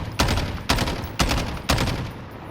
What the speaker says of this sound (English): You can also burst fire it.